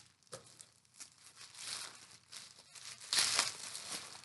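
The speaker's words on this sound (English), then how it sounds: "I'll have to cut some of this tape off further down here" Tape being cut and pulled off a parcel of wool, with crinkly plastic rustles and short tearing bursts at an uneven pace, close and fairly quiet.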